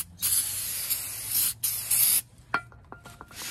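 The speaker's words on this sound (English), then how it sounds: "Make sure you're cleaning with some brake cleaner." Brake cleaner is sprayed onto new front brake rotors on a Honda in a few close, sharp hissing bursts. Light clicks and taps follow, and there is no talking.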